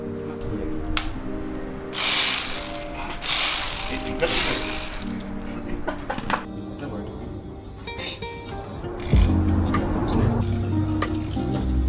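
A ratchet clicks rapidly while loosening the oil pan screws on a Proton Satria SOHC 4G93 Turbo, in close bursts of ratcheting with metallic clinks between them and some talk in the background.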